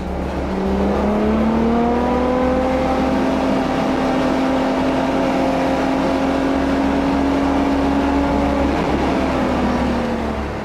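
A Ferrari F12's V12 engine holds a sustained, smooth rising note that climbs gradually, then eases off near the end, loud and continuous with no talking.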